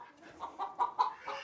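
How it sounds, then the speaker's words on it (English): Hens clucking inside a hen house at egg laying time, a few close, short clucks in quick succession against a quiet background. "It's gonna be noisy in here because it's egg laying time here in the hen house."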